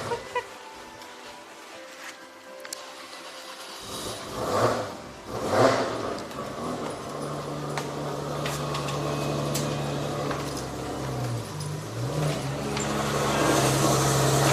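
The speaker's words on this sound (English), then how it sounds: "Oh, he's parking the car." A car engine hums steadily while the car is being parked, starting faint and rising in loudness and pitch as it maneuvers, with brief bumps and handling noises early on.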